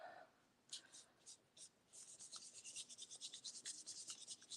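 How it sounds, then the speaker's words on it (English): A print being lightly rubbed by hand on a Gelli plate, a soft rhythmic scratchy rasp in repeated short strokes that quicken into a steady back-and-forth, quiet and close. "just going to rub lightly"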